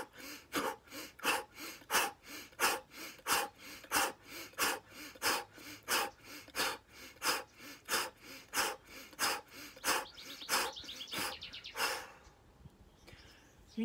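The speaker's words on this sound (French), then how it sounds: "je peux rentrer dans quelque chose de dynamisant par un mouvement et une respiration rapide que je peux éventuellement faire par la bouche" Rapid, forceful qi gong breaths through the mouth, about two per second in a steady, even rhythm, close and loud, ending with a slower exhale, with no speech.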